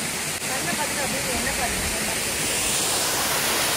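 A waterfall in Kerala roars as a dense, steady wash of broadband noise that holds without a break from start to finish, loud and close.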